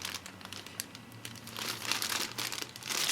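A plastic bag of Tamiya Subaru Brat model kit parts crinkles and rustles close up in irregular bursts, growing busier toward the end.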